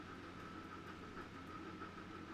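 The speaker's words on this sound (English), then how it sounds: "Another train taking off in the distance." Distant train departing in Transport Fever 2, a steady low rumble of rolling wagons with a faint rhythmic clatter, continuous and unbroken throughout.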